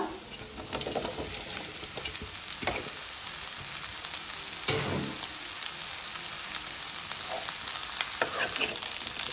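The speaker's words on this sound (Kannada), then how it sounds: "ಇದು ಆಯಿಲಲ್ಲೇ ಬೇಯಬೇಕು" Round bitter gourd slices fry in oil with a dense, steady sizzle and crackle. Scraping stirs break in at a few points, and the whole thing goes on with no talking.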